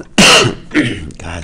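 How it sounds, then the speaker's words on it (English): A person with the flu coughs and clears their throat, a few short, loud, close bursts, with a brief spoken word between them. "So let's just keep coughing."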